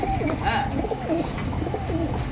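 Pigeons at a market sale coo steadily in soft, rolling throaty calls, close and continuous, with faint voices in the background.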